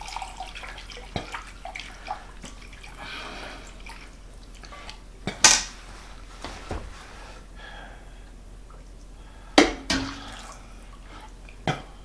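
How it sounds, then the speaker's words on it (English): A tempered liquid mixture is poured into a slurry for horseradish gravy to go with boiled brisket, a quiet liquid trickle broken by a few sharp splashes and clinks. "we can pour this into our slurry"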